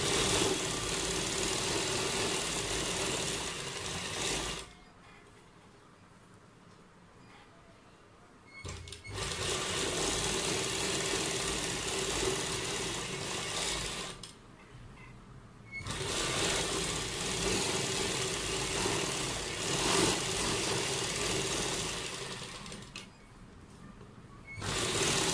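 A sewing machine stitches the side seam of a kurta in three long steady whirring runs, with short quiet pauses between them and no speech.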